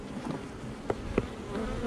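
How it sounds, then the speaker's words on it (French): Honeybees hum softly inside an opened, nearly empty hive, a faint low buzz with a few brief louder passes close by. "Pas beaucoup d'abeilles là-dedans"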